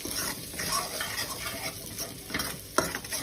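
Paneer and onion pizza topping sautés in a pan with turmeric, coriander-cumin powder and garam masala, making a steady close sizzle with a spoon stirring and scraping throughout.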